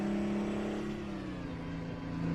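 An old Mack truck's V8 engine in American Truck Simulator drones in a steady low hum, its pitch easing slightly down and back, with no voices over it.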